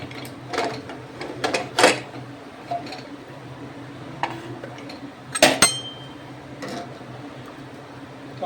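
Pots clink and clank as boiled vegetables for pav bhaji are transferred to another vessel, with several sharp metallic knocks scattered irregularly over a quiet kitchen background.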